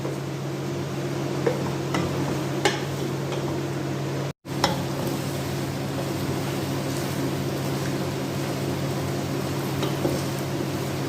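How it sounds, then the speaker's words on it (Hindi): Chicken and onions are stirred in a karahi, producing a steady low sizzle with occasional soft scrapes and clinks of the spoon and a brief dropout partway through. No one speaks. "गोश्त शामिल करने के बाद इसको अच्छी तरह से प्याज को इसमें मिक्स कर दें।"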